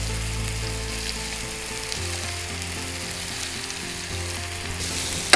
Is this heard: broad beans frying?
yes